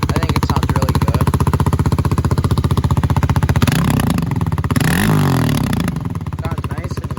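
A 2020 Kawasaki KLX 300R dirt bike engine idles in a fast, steady close-up putter, then revs up twice in short blips before settling back to idle.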